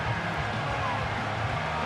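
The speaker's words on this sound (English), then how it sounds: "This crowd into it now." A virtual stadium crowd in a Madden football video game roars as a low, steady, distant wash of noise, with no distinct chants.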